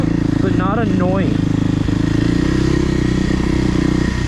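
A 2024 Kawasaki KLX300R dirt bike rides singletrack at HMT Tornado, its engine a steady, loud buzzing thrum that runs unbroken, with a brief voice over it early on.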